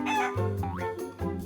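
A hen's clucking as a cartoon sound effect, a few short, pitched clucks with a warbling rise in the middle, clear and close, with no talk.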